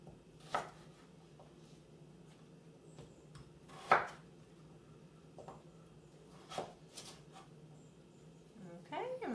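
A knife chops through potatoes on a cutting board while slicing them into fries, several sharp separate knocks spaced a few seconds apart under quiet kitchen room tone, with a person talking.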